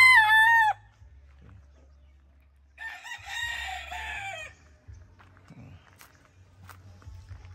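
A seven-month-old White Kelso rooster gives a short, loud, close crow, followed a couple of seconds later by a longer, warbling crow, amid faint clucks and shuffling footsteps.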